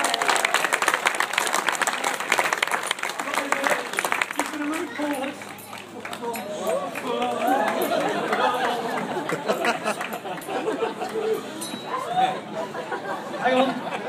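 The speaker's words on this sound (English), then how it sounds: "Yes, round of applause." A street crowd in Galway claps for a performer, scattered applause mixed with chatter and a few laughs, fairly near and lively, fading into talk toward the end.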